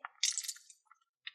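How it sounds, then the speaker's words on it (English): Liquid slime from a packet poured into a container, giving a close, quiet wet squish and gurgle for under a second, then a couple of faint drips and a last soft splat. "So let's pour the slime in."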